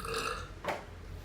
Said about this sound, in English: you should burp for a living and just get paid to burp on command